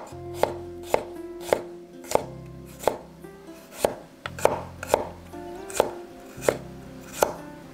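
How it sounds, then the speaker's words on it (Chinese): Garlic cloves sliced with a knife on a cutting board, a close series of about a dozen crisp chops at a fairly regular pace, with no talk. "蒜头切片"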